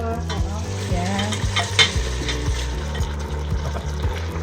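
Squid dropped into a hot pan for pork and squid adobo, frying with a steady loud sizzle and bursts of stirring and utensil scrapes, alone without talk.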